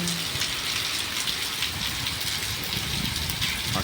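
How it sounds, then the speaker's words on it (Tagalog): Steady rain falls in a dense, continuous hiss of drops on surfaces outdoors, close and unbroken, with a faint low engine-like rumble underneath. "Umuulan eh."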